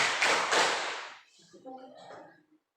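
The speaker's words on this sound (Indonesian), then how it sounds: "Tepuk 3." A classroom of students claps in unison on cue, a few sharp group claps in quick succession, followed by quieter voices talking.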